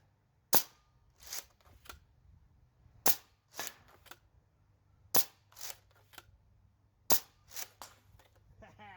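Nerf blaster fires foam darts at an outdoor range: sharp pops in pairs, four bursts spaced about two seconds apart, each loud launch followed by a softer second snap, over faint background noise.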